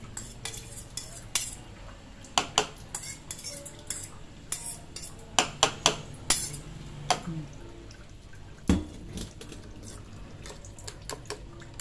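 A utensil clinks and scrapes against a bowl while sardines and eggs are mixed together for tortang sardinas, with irregular taps and stirring strokes close by.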